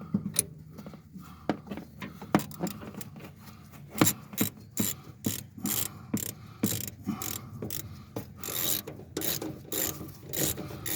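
A hand ratchet tightens the front shock on a 1969 Cadillac Fleetwood, giving a steady run of close, sharp clicking strokes with brief pauses as the handle swings back and forth.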